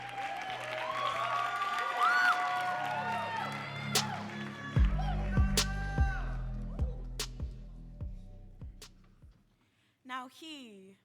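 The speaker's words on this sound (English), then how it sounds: "keep on clapping as Kiana comes to the mic" Audience at a youth poetry slam final applauding and cheering loudly. The applause carries under an emcee's speech, then thins out into scattered claps and fades to near silence before a voice starts again.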